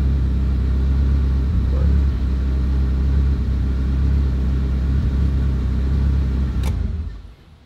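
A car engine running without a wideband oxygen sensor idles with a steady, low, throbbing rumble close by, then cuts off and drops away near the end, with no talking.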